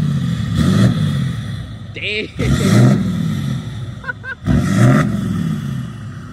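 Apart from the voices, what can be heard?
pickup truck engine revving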